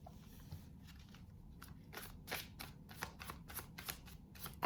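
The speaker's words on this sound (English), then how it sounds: "we're going to pull one more card as a final outcome" Tarot cards are shuffled and one card is pulled, a quiet run of crisp riffling flicks and papery snaps repeating in a steady rhythm close by, with no talking.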